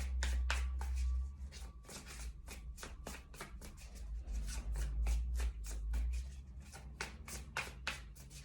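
Tarot cards being shuffled by hand, a quick run of crisp riffling and flicking bursts in close, fairly quiet rhythmic bunches with no talk.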